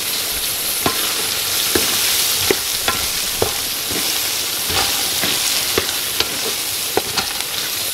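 Cauliflower tipped into a pan of nearly cooked mixed vegetables in a Skardu village-style kitchen, hissing with a steady frying sizzle while a utensil scrapes and clinks through it in irregular strokes, no talking.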